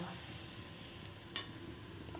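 Spicy rupchanda (pomfret) fish curry gravy simmers in a pan after water goes into the cooked-down spice paste. A faint, steady bubbling sizzle carries one brief click partway through, with no talking.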